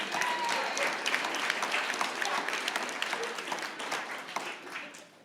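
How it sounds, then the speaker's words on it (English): A big round of applause rises from the audience at a 2016 startup pitch competition, dense clapping sustained for several seconds before thinning and fading toward the end, with faint voices mixed in. "So let's give him a big round of applause."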